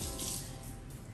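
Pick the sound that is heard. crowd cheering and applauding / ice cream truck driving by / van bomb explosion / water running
water running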